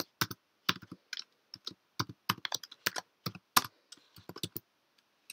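Keystrokes on a Mac keyboard as a login password is entered, a rapid irregular run of crisp close clicks in short bursts with brief pauses, no voice present.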